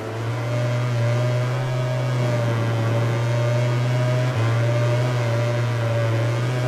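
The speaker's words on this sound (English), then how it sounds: "I can hear the Ducati right behind me though." Ducati motorcycle engine in the MotoGP 20 racing game, a wet race at Assen: a steady, loud droning engine note holding a constant pitch with a brief dip, no speech over it.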